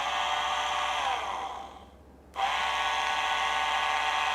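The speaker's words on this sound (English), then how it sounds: "Here we have a 24 volts motor" A 24 volt electric motor whines steadily, spins down with falling pitch nearly to a stop, then quickly revs back up to its steady high whine.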